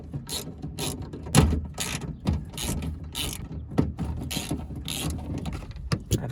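A wrench loosens the 10mm bolts on the window regulator of a 2001–05 Honda Civic, with repeated close clicking and ratcheting bursts and clunks, and no talking.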